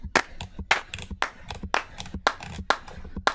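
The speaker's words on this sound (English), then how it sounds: "I was using a clap in every beat today." A sampled hand clap repeats in a steady beat, about a dozen sharp close claps with some lighter taps between them, loud and dry with no voices, heard while a beat is being built.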